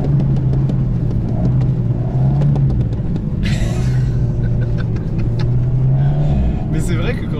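An Alpine A110 S drifts on an icy track, its engine holding a steady, droning tone that rises and falls with throttle changes, with short hissing bursts of tires sliding on ice.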